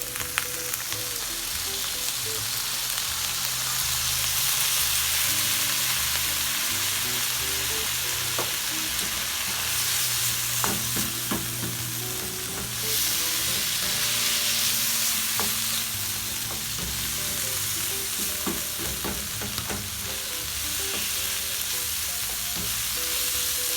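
A pot of chicken and shrimp chowmein sizzles and fries steadily as soy sauce goes in, with intermittent stirring scrapes and clinks over a constant loud hiss, close up and free of talk.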